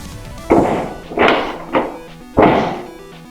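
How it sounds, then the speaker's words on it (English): A foam dart fired from an X-Shot Turbo Fire blaster in slam-fire mode strikes around a room, giving four sharp thwacks and thuds spaced about a second apart, close and fairly loud with no talking. "The slam fire dart shot across my room."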